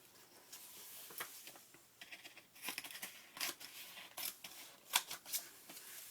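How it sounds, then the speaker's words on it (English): Quiet, close snipping and rustling of scissors cutting through paper, in irregular short strokes. "Scissors."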